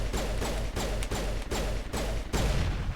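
Repeated explosions in Mass Effect: a steady run of loud, thumping blasts at roughly half-second intervals over dense combat noise.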